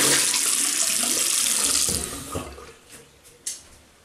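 A tap runs loudly into a sink, rinsing off shaving soap with warm water, then shuts off after about two seconds, leaving soft drips and small splashes.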